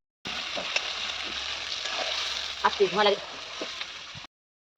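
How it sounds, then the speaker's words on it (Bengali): Goat leg meat curry bubbling and sizzling in a pot over a gas flame, a steady close hiss with a person talking over it. "মাংসটা দিয়ে দিল কি সুন্দর ফুটছে একদম দারুণ"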